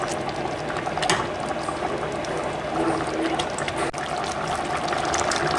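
Aubergines cook in a pan for a turkey sauté, giving a continuous dense bubbling and simmering hiss close by. It holds a steady level throughout, with no voices.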